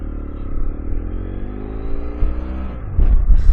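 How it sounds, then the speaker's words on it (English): A BMW F 700 GS motorcycle engine with an aftermarket exhaust drones steadily with layered harmonics, then revs up sharply near the end, the exhaust note growing louder and rougher. "note that this has a aero aftermarket exhaust. It sounds really bitchin'"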